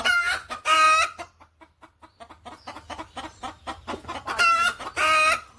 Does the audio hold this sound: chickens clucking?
yes